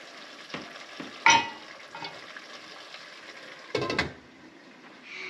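Eggplant pieces sizzle in a hot pan while cooking pinakbet, a steady frying hiss broken by a few sharp clatters of stirring and scraping, with no talking.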